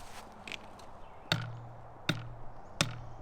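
An Olympic recurve bow fitted with three stabilizers is struck several times, giving three sharp knocks, each followed by a short low, odd ringing hum, close and fairly quiet.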